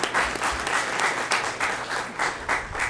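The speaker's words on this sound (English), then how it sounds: "So now we'll give you an applause." A small audience at a Yucca Valley chamber of commerce candidate forum claps after a speaker's answer, a close, lively burst of applause that swells and pulses unevenly for a few seconds, with no talking.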